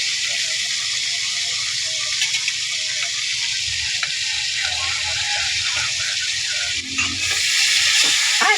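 Food frying in hot oil while cooking, a steady bright sizzle that swells louder near the end, with faint clatter of utensils.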